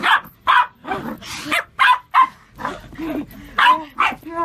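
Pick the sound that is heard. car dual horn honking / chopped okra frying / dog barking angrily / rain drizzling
dog barking angrily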